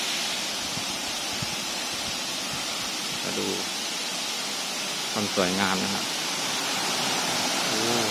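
Fourth tier of Huai Mae Khamin waterfall in Srinagarind Dam National Park, Kanchanaburi, a constant, loud roar of rushing water, with someone speaking briefly over it twice.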